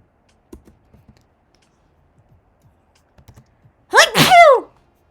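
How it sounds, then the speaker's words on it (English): Light keyboard typing and clicks tick along quietly before a single loud, forceful sneeze bursts out close to the microphone near the end. "My loud, aggressive sneezes."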